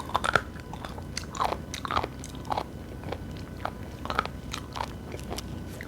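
Raw abalone sashimi is chewed close up in a run of crisp, irregular crunching bites with soft mouth sounds between them and no talking.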